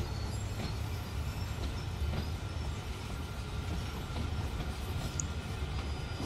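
A DBR 363 shunting locomotive in Train Sim World 2 rolls along with its brakes applied, giving a continuous low rumble with faint rail clicks and an occasional thin squeal. The sound is steady and moderately loud, with no voices.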